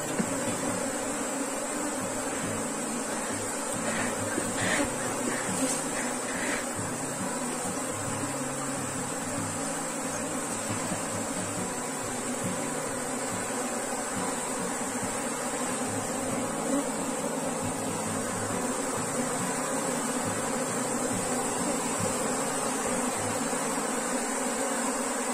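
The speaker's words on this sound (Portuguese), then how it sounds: "tem muitas abelhas" Dense, steady buzzing of many honeybees around an open beehive, a continuous close swarm drone lasting throughout with no talk.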